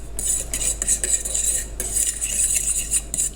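Quick whisking of wet ingredients for pumpkin pecan scones in a bowl, a steady run of light, rapid metallic clinks and scrapes, close and continuous with short pauses, no talking.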